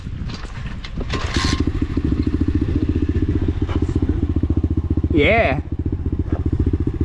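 A pit bike motorcycle engine idles close by with a rapid, even putter, briefly under talking and a short voice sound.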